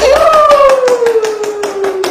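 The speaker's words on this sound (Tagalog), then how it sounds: "Palakpak!" Hands clap in a steady, close rhythm at a public rice donation for Chaong, Quezon, with a sustained tone beneath the claps.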